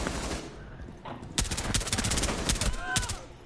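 Video game shotgun fire: a rapid string of loud, sharp blasts in quick succession, several close-range shots layered over ongoing game noise, with a brief pause before the volley starts.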